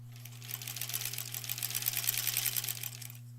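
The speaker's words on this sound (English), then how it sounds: "So I'm stopping each time to match up the next seam versus just sewing all the way across." A sewing machine stitching quilt border pieces runs in a steady rapid whir for about three seconds, close and fairly loud over a constant low hum, with no talking.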